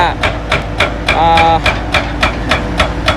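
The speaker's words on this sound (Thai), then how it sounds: "ถ้าพี่น้องก็เบิ่งการเจาะนะครับเจาะธนาคารน้ำใต้ดินนะครับ" A Hyundai excavator-mounted rock drill hammers into bedrock while boring a groundwater bank in Nong Om: loud, regular percussive blows about four per second, close up, with a brief tonal whine partway through and an engine drone underneath.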